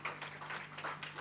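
Faint audience clapping at a cardiology conference, a soft, continuous patter of many hands in a large hall over a low steady hum, with no talk over it.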